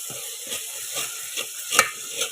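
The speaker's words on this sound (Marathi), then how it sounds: "ह्यात टाकू आलं लसूण आणि कोथंबीर जरा ही घेऊ परतून" Ginger, garlic and coriander sauté in hot oil in a village-style kitchen, giving a soft sizzle broken by a few quick scraping stirs of a spatula over a couple of seconds.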